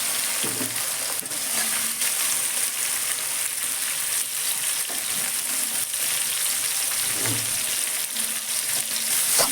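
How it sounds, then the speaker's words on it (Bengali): Onions and tomatoes with salt fry in a pan of oil, giving a steady, close sizzle that runs evenly throughout with a few soft stirring bumps. "লবণ দিলাম যাতে পেঁয়াজ এবং টমেটোটা তাড়াতাড়ি নরম হয়ে যায় এবং ভাজা হয়ে যায়"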